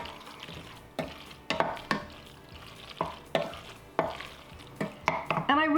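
Chopped spinach being stirred into a melted vegan cheese sauce with pasta in a pan, a series of soft wet scraping and squelching strokes at an uneven rhythm, close up with no talking.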